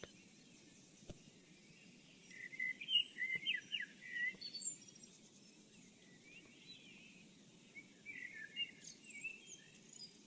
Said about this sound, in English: Maybe the birds are just too loud